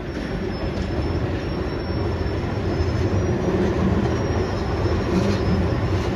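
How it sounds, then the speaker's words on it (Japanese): A two-car Keihan Ishiyama-Sakamoto Line tram in Otsu, wrapped in Murasaki Shikibu artwork, rumbles past close by, a steady loud roll of wheels on rails with no voices. "あちらは2両編成石山坂本線石山寺の方へ向かいます。"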